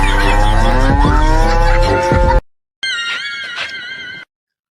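Loud, close mooing from a farm buffalo: a long sustained bellow, a brief silence, then a second shorter call.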